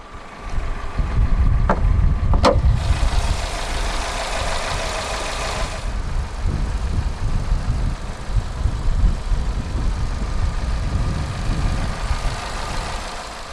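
A 2014 Vauxhall Insignia's 1.8 litre naturally aspirated inline-4 petrol engine idles with a low, steady hum, heard close up with a few brief clicks and a short rush of higher noise near the start.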